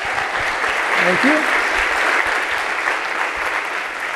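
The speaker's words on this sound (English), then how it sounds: "let's give Chris a big round of applause." Loud sustained applause from a conference audience after a business agility talk, dense clapping throughout, with a brief spoken thanks over it.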